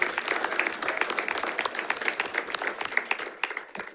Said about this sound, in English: give our girls track team a round of applause